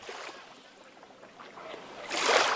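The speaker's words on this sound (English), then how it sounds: "While the waves lapping onto shore might sound serene" Small waves lap onto a sandy Lake Erie beach, soft washing water that swells into a louder surge near the end.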